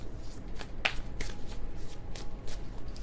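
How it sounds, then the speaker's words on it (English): Tarot cards being shuffled by hand in a series of quick, uneven riffling bursts with one sharp snap, close and moderately loud with no talking. "That was kind of a sloppy shuffle"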